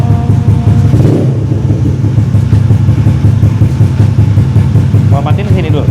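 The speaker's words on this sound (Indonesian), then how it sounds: "kalian sudah mendengarkan betapa berisiknya motor ini" A Honda Scoopy scooter's engine runs loudly and steadily at close range, a continuous noisy drone with some revving, while people talk over it.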